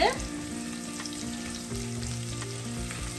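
Chicken liver sautéing in a pan, a continuous close sizzle and hiss with faint stirring scrapes, steady and unbroken throughout.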